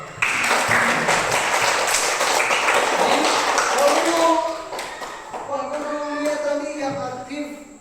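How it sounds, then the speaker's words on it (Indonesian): A classroom of children claps for two student groups, a dense burst of applause lasting about four seconds before it fades, followed by someone speaking over lighter background noise. "Tepuk tangan dulu untuk kedua kelompok"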